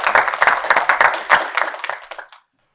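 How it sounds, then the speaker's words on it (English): A high-school election night crowd bursts into loud, dense applause and clapping, which fades out after about two seconds into silence. "Crowd is popping!"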